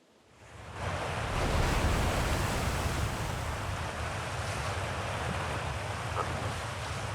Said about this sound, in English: getting blasted in the face by high pressurized water